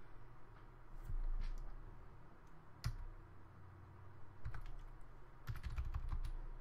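Typing on a computer keyboard to enter a name in a Minecraft-style server game, with bursts of quick, close key clicks separated by short pauses over low background hum.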